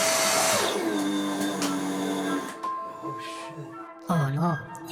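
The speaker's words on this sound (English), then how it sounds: "my vacuum decided to start smoking sawdust" A workshop vacuum winds down as it smokes on sawdust, its whine dropping in pitch and fading, then restarting with a rising, wavering motor tone near the end while a voice talks over it.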